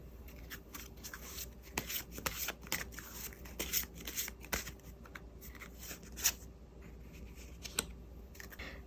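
Tarot cards being shuffled and drawn on a table: soft, irregular papery rubs, flicks and taps close to the microphone, quiet with small sharper clicks scattered throughout, no speech.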